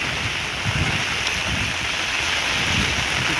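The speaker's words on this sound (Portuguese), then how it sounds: "Estou gravando para vocês verem da chuva aí." Heavy rain in the countryside of Passira, Pernambuco, in northeastern Brazil: a steady, loud, unbroken hiss of downpour filling the whole clip, with no voices.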